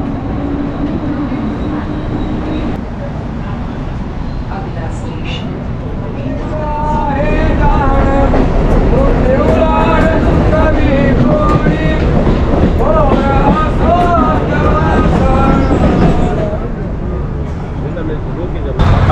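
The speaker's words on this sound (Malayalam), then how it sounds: "ഈ ട്രെയിൻ ബാന്ദ്ര പോവും." Mumbai local train riding toward Bandra, a steady rumbling roll with clickety-clack rail noise that grows louder midway, heard from inside a crowded carriage with people talking over it.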